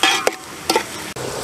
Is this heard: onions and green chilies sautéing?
yes